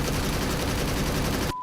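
Rapid, dense burst of shotgun fire from the game Devil May Cry 5, loud and continuous for over a second with a harsh, crackling texture before cutting off abruptly.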